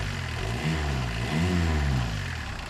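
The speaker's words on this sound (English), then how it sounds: "Pretty loud. The diesel." A Suzuki Samurai with a 1.6 turbo diesel engine idles loudly and steadily, a low rough rumble that swells slightly in the middle, with no talk over it.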